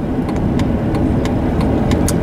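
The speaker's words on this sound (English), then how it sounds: "School buses are actually coming through here" School buses rolling past nearby, a loud steady engine drone with mid-range motor hum and repeated brief higher clicks or squeaks, no voices over it.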